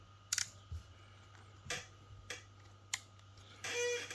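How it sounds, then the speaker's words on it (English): A black metal Steinhart hair clipper's on/off lever clicks several times: sharp, close, isolated snaps spaced about a second apart against a quiet background, ending in a short burst of a louder motor-like sound. "on and off switch, one, two, three, four, five clicking lever"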